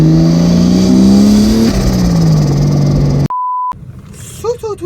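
A Mercedes-Benz M104 turbo engine, heard from inside the engine bay, drones loudly with rising and falling revs. It cuts to a sharp steady beep, then music takes over.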